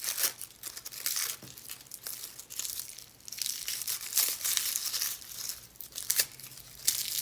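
Papery garlic skins crinkle and tear as a head of garlic is pulled apart by hand outdoors on a winter day, a close, quiet, irregular rustling with small crackling bursts throughout.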